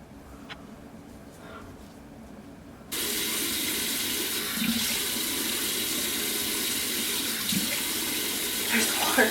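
A tap runs while someone washes their face at a sink, starting abruptly after a quiet stretch and then continuing as a steady close rush of water with intermittent splashes.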